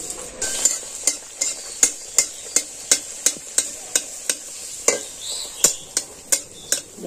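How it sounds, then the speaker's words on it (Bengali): Milk luchi puffed flatbreads deep-fry in a kadai of oil, a hissing sizzle punctuated by a steady run of sharp metallic taps and splashes from a spoon basting oil, close and fairly loud. "আমি আর এক খোলা ভেজে তোমাদেরকে দেখাচ্ছি"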